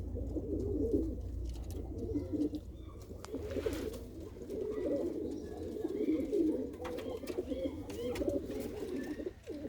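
A pair of pigeons cooing continuously and close by, a low throaty warble that rolls on without pause, with faint chirps in the background.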